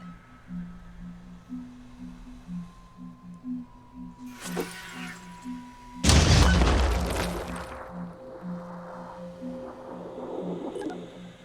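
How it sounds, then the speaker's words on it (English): Frag grenade explosion in the Phoenix Point video game: a single sharp, loud blast erupts after a quiet stretch of tonal game hum and beeps, then rumbles and fades over a few seconds. "Let's throw another frag."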